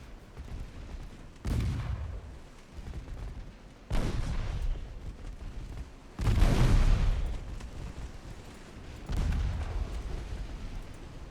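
A destroyer fires armor-piercing rounds in the naval battle game Ultimate Admiral Dreadnoughts, four heavy booming shots spaced a couple of seconds apart, each trailing off in a rumbling echo.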